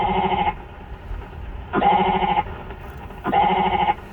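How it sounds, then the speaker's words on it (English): Goats belonging to the Riverside Park Conservancy bleat in a New York City park, three loud, sustained cries at regular intervals with quieter ambient noise between them and no voices. "Yes, you may not associate goats with New York City"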